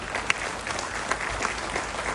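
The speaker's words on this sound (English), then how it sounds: "We need a real loud round of applause for Conrad Conrad." Steady applause from a crowd, dense clapping throughout with a few sharper claps standing out.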